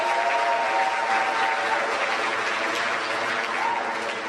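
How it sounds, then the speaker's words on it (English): Sustained applause from an audience at a school kickoff event for River City Science Academy, a dense, steady wash of many hands clapping without pause, fairly loud and even throughout. "give yourselves a big round of applause"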